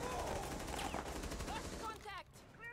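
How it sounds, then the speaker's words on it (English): Gunfire in the shooter game Rainbow Six Siege rattles in a rapid burst as shots punch through a barricade, loud and dense through most of the moment, with a voice talking over it near the end. "he just got shot through that barricade"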